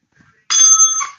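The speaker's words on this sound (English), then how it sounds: "We need the bell." A single bright bell rings out sharply as a sound effect, loud and ringing on briefly before fading, with no talk over it.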